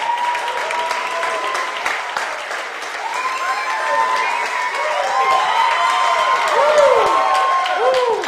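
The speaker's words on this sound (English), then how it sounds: "Give him a round of applause." Comedy club audience applauding a performer as he is welcomed to the stage, a dense, steady wash of clapping with some cheering and whoops, swelling slightly toward the end.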